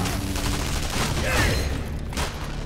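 Gunfire in the video game Shadow Warrior, a dense, continuous rattling barrage of shots at steady loudness with a brief swell in the middle, and no talk.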